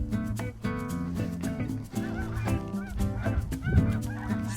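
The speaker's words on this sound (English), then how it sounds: "Snow geese flying through." A flying flock of snow geese honks overhead in a dense, overlapping chorus of many loud calls, continuous throughout, with the flock sounding fairly close.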